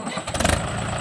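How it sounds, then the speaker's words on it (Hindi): A Mahindra 575 XP Plus tractor with a 4-cylinder engine cranks and catches in a brief, close burst, settling into a steady diesel rumble. "आवाज़ सुनी पारे महिंद्रा 4 सिलेंडर इंजन रो आवाज़ बहुत ही बढ़िया"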